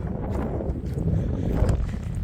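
Strong wind roars and buffets steadily across an open farm field, a dense low rumble with gusty swells and no voices.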